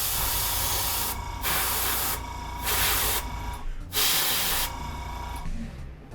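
Matte flat blue spray paint hisses from a can in several steady bursts of about a second each, separated by brief pauses, close and loud.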